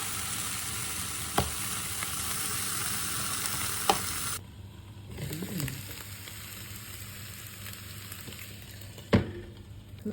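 Turkey bacon sizzles in a pan, a dense crackling hiss that fills the first few seconds before dropping away to quieter sputtering with a few sharp clicks.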